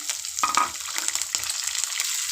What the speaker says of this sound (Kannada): ಮೆಣಸಿನ್ಕಾಯಿ ಫ್ರೈ ಮಾಡಿಕೊಂಡು